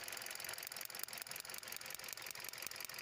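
A misfiring car engine runs rough, its ignition coil lifted off cylinder one, giving a steady fast ticking, knocking idle heard up close with no voices.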